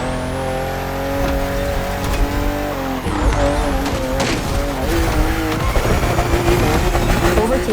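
BMW cars racing on a narrow, twisting road in The Crew Motorfest, engines droning loudly and steadily with a pitch shift midway as one accelerates and tires squeal briefly, under a faint voice.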